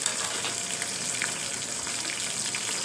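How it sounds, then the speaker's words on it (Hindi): Tomatoes and green chillies frying in a pan, a dense crackling hiss with faint stirring, close and continuous with no talking. "अब इसमें मैं ऐड कर रही हूँ टमाटर और सब्ज़ मिर्चें"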